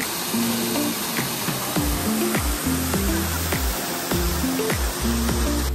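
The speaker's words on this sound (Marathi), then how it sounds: "इकडनं मागच्या साईडनं पूर्ण नदी वाहत येते आणि इथं मंदिरात धबधबा जातो" At Chandeshwari temple near Nandgaon, Nashik, a waterfall and river roar in a constant, bright rush, with a melodic tune of repeating notes playing over the water.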